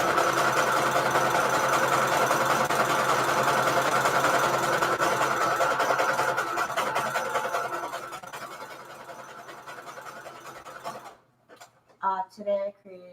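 A sewing machine stitches a junk journal cover with red thread, a steady, close, whirring motor hum with a fast rapid tick that runs for about eleven seconds, stops, and is followed by brief speech.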